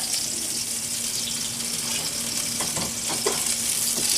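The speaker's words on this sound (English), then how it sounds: "I'm going to let this roast just a little bit and release some of the flavors of the garlic into the oil." Garlic roasting in oil in a pan, a steady close sizzle and hiss with a few brief clinks of stirring, with no talk.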